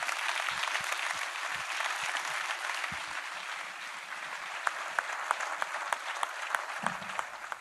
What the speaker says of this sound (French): Je crois que ces applaudissements sont bien mérités